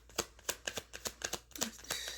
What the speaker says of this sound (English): I don't know why I'm like shuffling.